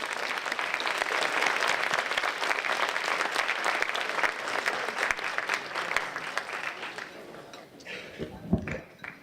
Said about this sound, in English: Let's please give a round of applause and welcome to Reverend Tom Hafer.